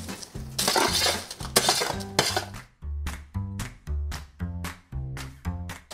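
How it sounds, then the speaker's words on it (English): Roasted Brussels sprouts slide and clatter from a foil pan into a bowl, a run of close, loud scraping and clinking with rhythmic knocks, probably from a utensil, and no voices. "I'm just going to slide these into the bowl, and that way I can toss it all with the sauce."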